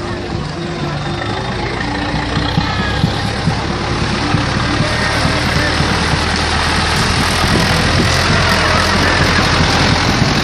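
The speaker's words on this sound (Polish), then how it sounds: "No jeźdź tym ciągnikiem." A tractor engine idles loudly and close by, a rough, steady low rumble running throughout, with people talking over it.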